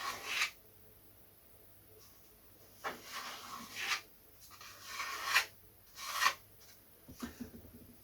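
Filler is scraped across the surface of a vintage Lunak aerobatic model glider in several separate rasping strokes, close up, with quiet pauses between them and no talking.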